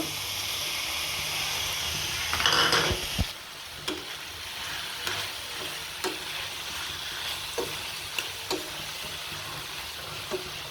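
Potatoes and tomatoes fry together in a pan with a steady sizzling hiss, punctuated by a loud burst as ingredients drop in and regular spatula scrapes and taps after, close, without talk.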